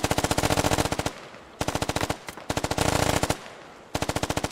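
Machine-gun fire in the SquadOps military shooter game: loud, close automatic bursts of rapid regular shots, several volleys separated by short pauses, with no talking.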